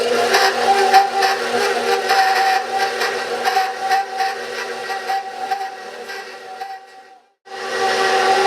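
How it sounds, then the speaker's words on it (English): A stand mixer combining cupcake batter on low speed gives a steady, whining motor hum with a pronounced tonal pitch. It cuts out briefly near the end, then starts up again. "We've added all of our ingredients to the mixer except for the frosting. We're going to turn this on to low speed and let it incorporate"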